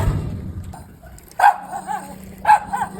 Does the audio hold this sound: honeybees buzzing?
no